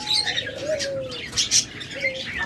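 Pet lovebirds and cockatiels in a breeder's aviary, with chirps and coos rising over a dense chatter of bird calls, fairly close and continuous, with a few brighter calls standing out.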